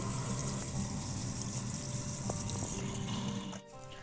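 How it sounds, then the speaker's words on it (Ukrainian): Water pours steadily into a pot, a continuous rushing splash close by, tapering off near the end. "заливаємо водою"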